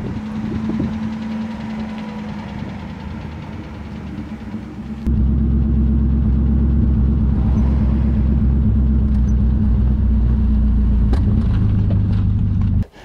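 The supercharged eight-cylinder engine of a 1934 Mercedes 380 Cabriolet rumbles on its own: a lighter running note at first, then a sudden step up to a deep, loud, steady drone for the rest, with no voices.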